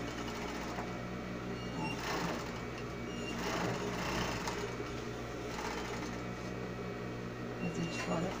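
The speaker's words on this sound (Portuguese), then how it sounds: "Vamos emendar um no outro, tá? Com uma costura de overlock." An overlock serger runs steadily as it seams tulle onto a dress bodice, a continuous close mechanical whir with slight surges in speed throughout.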